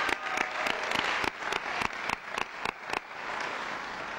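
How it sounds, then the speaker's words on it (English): A school audience breaks into a steady round of applause, dense clapping sustained for several seconds with some sharper individual claps standing out before it begins to thin. "I think that deserves a round of applause right there."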